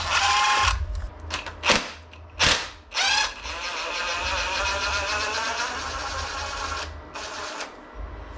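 A power drill backs screws out of a rack, giving several short whirring bursts followed by a longer sustained run, up close and loud with no talking.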